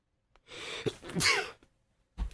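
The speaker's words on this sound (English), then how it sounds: "Did not mean to sneeze on camera." A single loud sneeze, preceded by a sharp inhale and followed by a brief exhale, close up with no talking.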